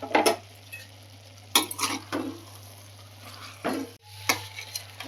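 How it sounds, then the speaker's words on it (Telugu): Coriander powder is stirred into a soya chunk and tomato curry in a pan, with a few bursts of scraping and clinking from the spoon against the metal over a low background hum. "కొద్దిగా ధనియాల పౌడర్ వేసి ఒకసారి కలుపుకోవాలి"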